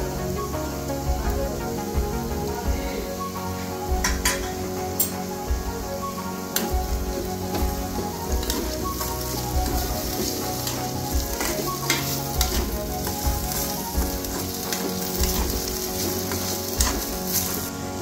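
Ginger garlic paste fries in hot oil in a pan, a dense close sizzle with repeated clinks and scrapes of a spoon stirring throughout, no voices.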